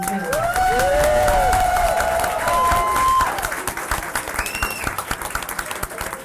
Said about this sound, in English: a big warm round of applause, please, for Kathy